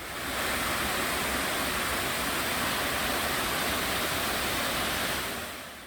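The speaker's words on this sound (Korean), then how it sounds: "대표적으로 용추폭포가 있습니다. 이렇게 쌍둥이 폭포인데요." Steady, full roar of Yongchu twin waterfall on Dutasan, South Korea, crashing down in winter, a dense continuous rush of water with no voices.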